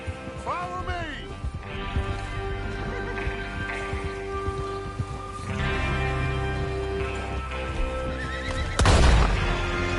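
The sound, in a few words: horses neighing and hooves in the video game Red Dead Redemption 2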